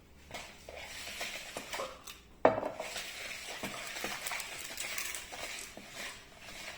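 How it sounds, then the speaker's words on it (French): A whisk beats a sugar mixture in a bowl with quiet, continuous scraping and swishing strokes, broken by one sharp knock against the bowl partway through. "maintenant tu prends le fouet et tu me fouettes ça"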